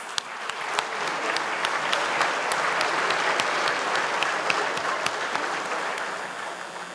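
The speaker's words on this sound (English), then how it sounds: "let's give them a big welcome round of applause" An audience applauds steadily, a sustained wash of many clapping hands with a few sharper claps standing out, continuing throughout.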